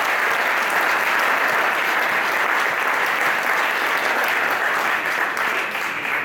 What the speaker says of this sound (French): Est-ce qu'on peut l'applaudir vraiment?